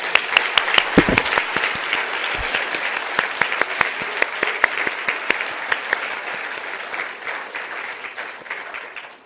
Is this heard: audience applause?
yes